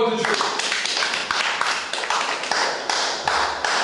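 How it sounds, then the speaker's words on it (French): A church congregation claps and applauds, sharp hand claps blending into a steady, close wash of applause with some voices underneath. "Acclamez pour la parole de Dieu."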